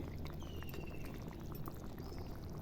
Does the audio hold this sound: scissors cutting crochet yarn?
no